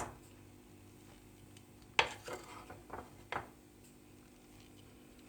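A spoon working flour into soft dough for Ramadan pide in a bowl, a few sharp clinks against the bowl and soft scraping strokes over a quiet background.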